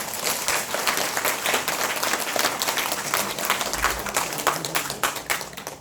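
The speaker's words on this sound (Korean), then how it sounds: "우리한테 우리 스스로 격려의 박수 한번 쳐주십시다." A room of election observers at a training session in Goyang gives a round of encouraging applause, dense and sustained, with many hands clapping close by for several seconds and no talk over it.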